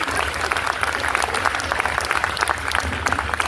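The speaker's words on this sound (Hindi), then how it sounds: "एक बार तालियों से बताओ कि मुझे ज्यादा समय की आवश्यकता है" Applause from an audience at a poetry recital at Lucknow University, a dense burst of clapping that stays loud and even for a few seconds.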